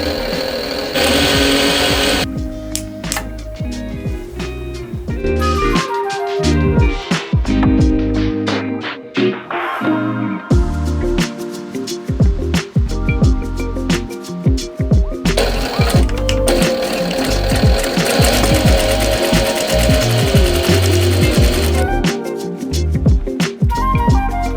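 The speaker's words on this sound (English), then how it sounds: "now it's time to put them under the sewing machine" A domestic sewing machine runs in steady bursts of rapid stitching through small fabric scraps being joined into quilt wadding, with brief pauses between runs and no talking.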